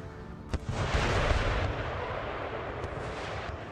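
Artillery volley in Empire Total War, sharp cannon reports layered into a loud, rumbling continuous roar, with a couple of distinct booms standing out near the start and later.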